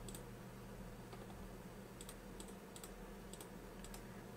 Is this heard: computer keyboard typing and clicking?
yes